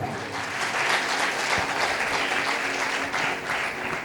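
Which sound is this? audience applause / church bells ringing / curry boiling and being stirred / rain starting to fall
audience applause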